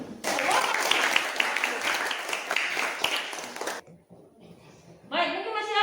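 A crowd claps in dense, sustained applause for several seconds, then it stops and a voice begins speaking.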